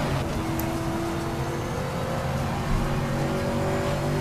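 A race car in Need for Speed Shift drives at speed with a steady, loud engine drone and shifting whine, tire noise underneath, running continuously without a break.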